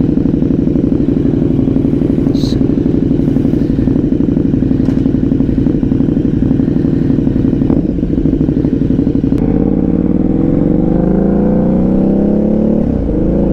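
A KTM 1290 Super Duke R motorcycle fitted with a Rottweiler intake system runs loud and close with a throbbing engine note, then revs climb sharply toward the end.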